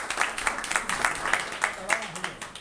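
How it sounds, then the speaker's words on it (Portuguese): A crowd at an event applauds club president Edgar with steady, moderately loud clapping, while voices carry on over it throughout. "Uma salva de palmas para Edgar, nosso presidente."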